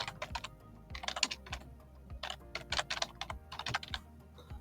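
Rapid computer-keyboard typing in bursts of close, crisp keystrokes, entering a new name for a workflow node in the n8n automation tool, with no voices.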